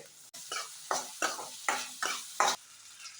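Onions sizzling in a pan with oil, cumin seeds and green chillies, stirred in five or six rhythmic scrapes that each lift the frying hiss, close up with no talking.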